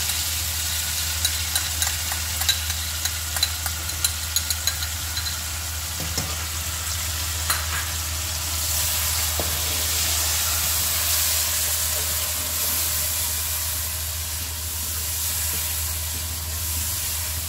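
Yogurt stirred into frying masala for daal palak rice, with clicks and spoon taps at first, then a loud, sustained hissing sizzle that swells and holds close for the rest.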